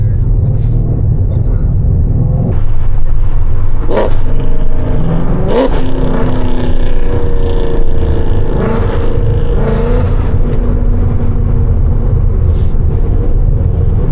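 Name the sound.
catless Ford Mustang 5.0 engine roaring while driving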